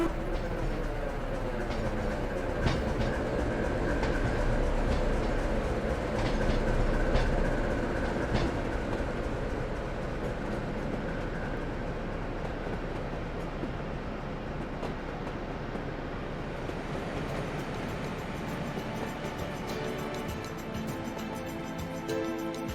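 Train simulator game locomotive 73106 departing Hopton, a steady rumbling roll of wheels on rails with faint clicking joints, loud at first and easing slightly as it pulls away, no talk.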